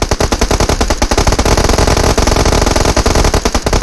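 Rapid automatic gunfire from PUBG Mobile rattles loud and close in dense, unbroken bursts of shots for several seconds.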